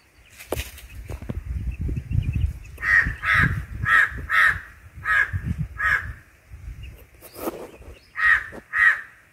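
A crow caws near two roosters sparring in a friendly, playful scuffle, giving about eight sharp, evenly spaced calls close by over soft scuffling and rustling.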